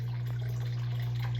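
Water runs through a gold sluice on the Wisconsin River, a steady near flow with an even, constant hum underneath and no voices.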